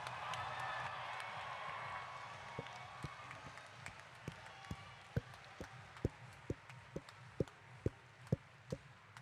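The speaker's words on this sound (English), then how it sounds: "Round of applause for your" A crowd cheers and claps for the mascots at the FTC Power Play robotics World Championship, a distant wash of applause that fades out and gives way to a steady series of rhythmic thumps.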